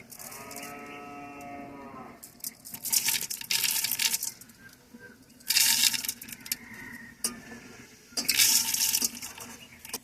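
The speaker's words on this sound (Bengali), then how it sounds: "এখন চাল ডালটা ঢেলে দেব।" Washed rice, red lentils and mung dal pour into a pot of spices in three rattling, splashy bursts. A cow lows in the background just before the first pour.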